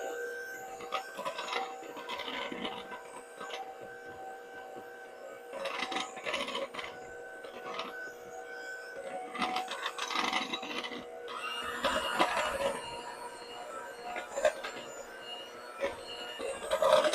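Electric mixer churning raisin nut cookie dough in a bowl on slow speed, a steady mid-pitched motor whir with uneven scraping and knocking bursts from the beaters, fairly close and alone without talk.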